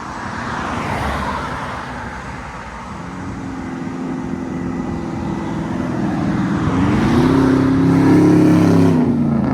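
A RAM 1500 pickup with a 5.7L HEMI V8, headers, true dual exhaust and a muffler delete drives by. The rumble starts at a distance and grows louder as the truck nears, ending in a deep, rising roar from the open exhaust.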